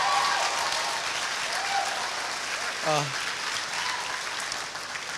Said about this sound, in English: can we just give Sive a nice round of applause, please?